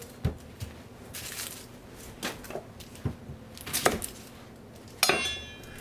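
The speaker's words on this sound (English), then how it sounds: "Now cut the top and bottom off the onion, then place it on a flat side and cut down the middle." A knife cuts through an onion on a cutting board in a home kitchen, a handful of sharp, separate taps and thunks spaced a second or so apart, close by, with faint clinks between them.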